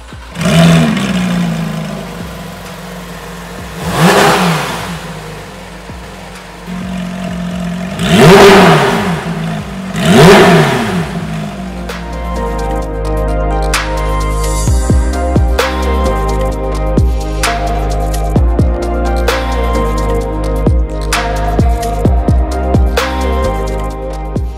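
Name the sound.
Porsche 4-liter six-cylinder engine revving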